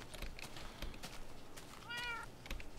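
A baby ocelot in the video game Minecraft gives a single short, faint meow against quiet background clicks and rustles.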